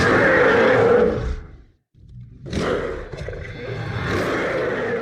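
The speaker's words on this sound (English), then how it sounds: "but the roar of the Yeti." A loud, sustained roar from the Yeti on the Expedition Everest ride at Disney's Animal Kingdom breaks off into near silence, then returns in rough, roaring waves that continue to the end, with no talk.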